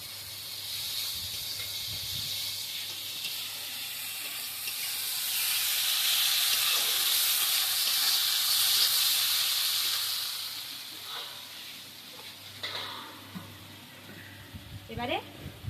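Eggplant and potatoes go into hot spiced oil, and a hissing, steamy sizzle builds and swells in the middle before easing off, ending with a few utensil taps and stirring sounds close by.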